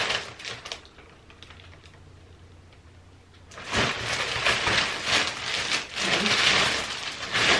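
A plastic bag wrapping a Brahmin Carla Pecan Melbourne leather handbag is handled and crinkled. A few crisp rustles come first, then after a quiet pause come louder, denser crackling and scrunching close up.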